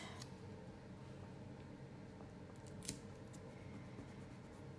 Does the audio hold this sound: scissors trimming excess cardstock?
yes